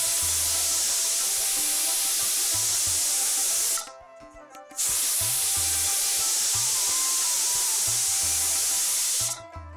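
A pressure cooker full of buckwheat khichdi hisses loudly and steadily on a medium-high flame, its sustained steam whistle broken by one brief pause before resuming.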